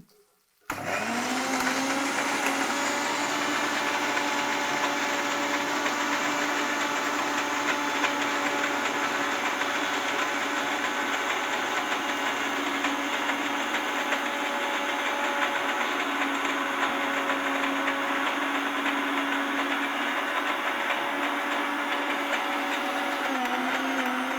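A mixer grinder whirs steadily and loudly as it grinds a paste, starting abruptly and holding an even motor drone throughout.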